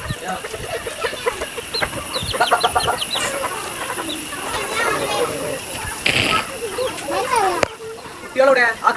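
Chickens in a backyard coop cluck and squawk in short bursts close to the microphone, while people talk over them.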